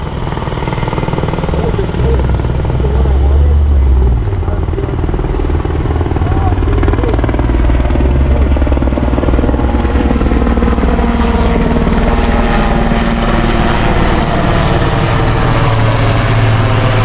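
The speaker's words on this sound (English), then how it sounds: "Here comes the helicopter." A rescue helicopter arriving at a motorcycle crash scene, its rotor and engine roaring loud and steady throughout, with voices talking beneath the noise.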